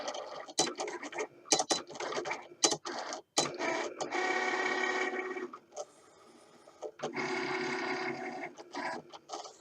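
A Cricut cutting machine working through material on a second cutting pass, giving a close mechanical whirring hum broken by quick clicks and short motor bursts, with a few brief pauses.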